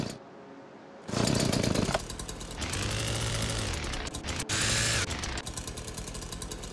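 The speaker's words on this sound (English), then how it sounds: "Which is a nice chainsaw." A chainsaw in the VR game Hot Dogs, Horseshoes & Hand Grenades starts up after a moment of quiet, then revs loudly and drops back to a rough idle several times, close and harsh, with no talking.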